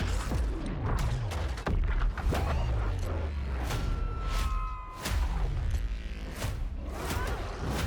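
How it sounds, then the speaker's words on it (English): Repeated booming explosions and bursts of gunfire with whooshing sweeps in a video game trailer, loud and cinematic, rumbling low throughout a busy action soundscape. "We sure cause a lot of explosions."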